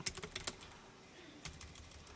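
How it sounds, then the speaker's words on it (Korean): Quiet clicking of keys on a computer keyboard, a quick burst of several keystrokes, a pause, then a few more taps, faint and close with no talking. "이제 타이핑 입력해 주시면 되겠습니다"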